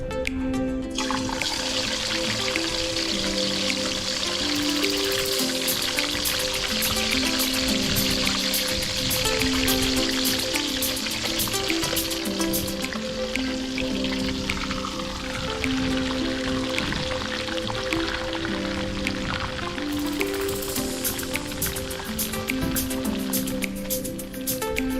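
Tilapia frying in a pan gives a steady, dense crackling sizzle throughout, loud and close, with background music playing along.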